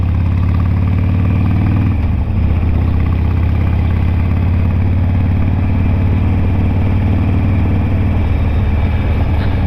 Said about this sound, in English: I'm out on the Sportster today